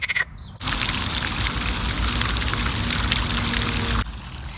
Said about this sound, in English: look at that, frogs. Frogs are so loud.